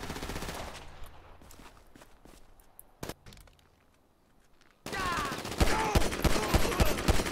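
Rapid gunfire bursts in Grand Theft Auto V, loud at the start, then a quieter stretch with a single sharp shot, before heavy sustained automatic fire and repeated shots return in the final seconds.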